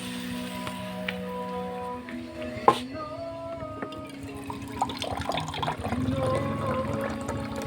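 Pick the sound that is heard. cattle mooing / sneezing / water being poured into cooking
water being poured into cooking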